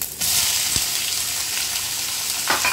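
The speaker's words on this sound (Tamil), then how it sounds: "வெங்காயம் நல்லா வதங்குற வரைக்கும் நம்ம நல்லா வேக வச்சுக்கணும்" Chopped onions fry in hot oil for goat trotter paya with a steady, loud sizzle and crackle, interrupted by a couple of brief stirring scrapes.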